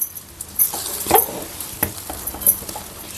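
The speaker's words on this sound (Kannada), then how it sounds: "ಈ ತುಪ್ಪದ ಒಗ್ಗರಣೆ ಹಾಕ್ಬಿಡೋಣ" Ghee tempering with cashews sizzles in a pan for curd upittu, with a low sizzle under sharp metal clinks and scrapes from a spoon stirring against the vessel at irregular moments.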